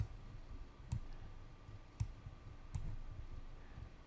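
Mouse clicks on a PC while using a face editor in NBA 2K23, three quiet, sharp clicks spaced about a second apart over faint background hum.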